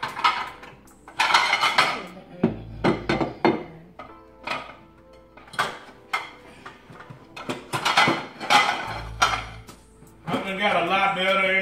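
Meatloaf being sliced and plated in a home kitchen, a run of close clinks and knocks of knife, utensils and dishes, with louder scraping bursts toward the end, sporadic and clattery.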